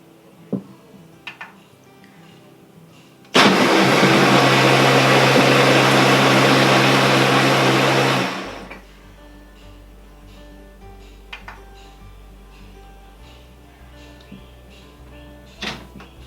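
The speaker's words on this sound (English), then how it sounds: "I'm just going to blend it just for a few more seconds so that the milk is incorporated nicely in our soup" A blender whirs for about five seconds at loud, steady full power while mixing a raw vegan Thai noodle soup base with milk. Quieter knocks and a low hum come before and after the burst.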